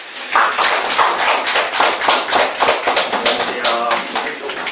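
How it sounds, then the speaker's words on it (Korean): An audience at a Korean academy information session claps in a dense, steady round of applause, loud and sustained throughout with faint voices mixed in. "우리 안준영 대표 원장님을 큰 박수로 맞이하겠습니다."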